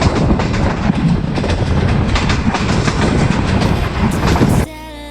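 Passenger train on the Lahore to Rawalpindi line running steadily on rails, a loud continuous rumble with rhythmic clickety-clack of wheels over joints, close and sustained until it cuts off abruptly near the end.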